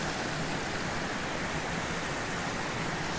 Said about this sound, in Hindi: झरने का पानी कल कल कल कल करता हुआ, चल चल चल चल करता हुआ